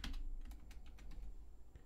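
A computer keyboard clatters as a password is typed, with quick, light key clicks in an irregular rhythm, close and fairly quiet, and no one speaks.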